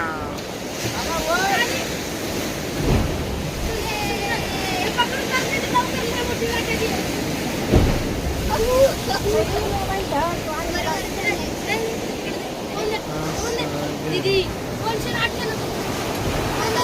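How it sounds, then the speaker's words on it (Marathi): Big ocean waves surge and wash at Diveagar beach on the Konkan coast, a continuous loud roar of surf with heavy wind buffeting the microphone and a few sharper crashes. "लाटा एवढ्या मोठ्या आहेत मित्रांनो"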